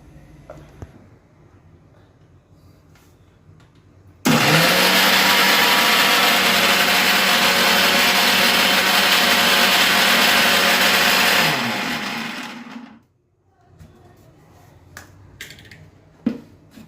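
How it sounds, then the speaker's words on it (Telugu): A mixer grinder grinding green chillies and ginger roars loudly for about seven seconds, then winds down and stops, with quiet kitchen clatter before and after. "ఇదిగో పచ్చిమిరపకాయలు, అల్లం మిక్సీ చేసుకుందాం"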